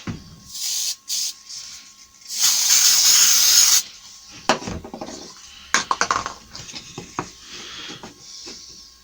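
Glue activator hisses from an aerosol can during kitchen fitting on a cornice. A short spurt is followed by one longer spray burst of about a second and a half, then clatters, taps and handling noises.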